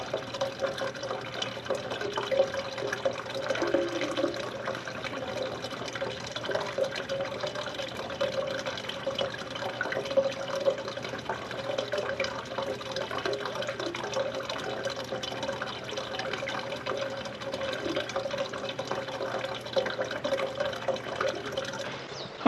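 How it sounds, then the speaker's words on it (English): A garden watering system runs over a freshly planted onion bed, giving a steady, continuous rush of spraying water at moderate volume throughout, with no talking. "which I got the water system on now"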